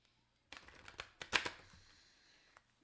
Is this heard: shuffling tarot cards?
yes